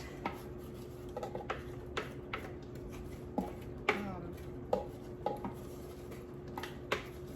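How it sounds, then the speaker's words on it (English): Knife taps on a cutting board as peeled, cored apples are chopped, a sparse irregular series of sharp clicks and knocks at close range in a quiet kitchen. "then I chopped them up"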